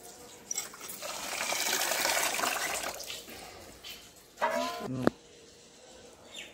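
Broken rice is swished and rinsed by hand in water to wash away husks, giving a soft sloshing and trickling, with a brief louder splash and pour near the end, faint and close.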